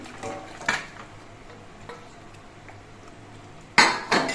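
Fried chicken pieces dropped into masala in a pan, clattering utensil knocks and scrapes against the pan, a pair of loud clunks near the end over a low background.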